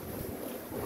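Sailboat under way in the wind, one reef in the mainsail and the genoa set, bound for Plymouth in fine weather. Steady broadband rush of wind and water, close and even throughout the short moment.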